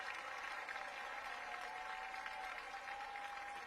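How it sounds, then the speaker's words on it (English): A crowd at an Oklahoma versus Iowa softball game roars after a play, giving a faint, distant, steady wash of applause and cheering throughout. "The crowd roars"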